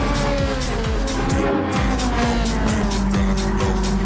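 Ferrari race car sliding slightly through a corner at Suzuka, its engine roaring loudly and steadily with rhythmic shifts and a faint edge of tyre scrub, heard close up and without voices.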